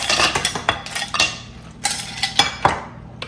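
Ice cubes dropping into a glass for a chilled summer drink, a series of sharp clinks and clatters in uneven bursts, close and fairly loud, with no talking.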